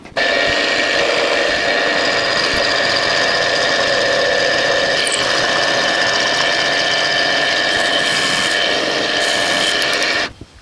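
A Bernardo P 600 G metal lathe cuts steel with a rear-mounted toolpost, making a loud, continuous motor hum with a steady cutting whine for about ten seconds before it stops.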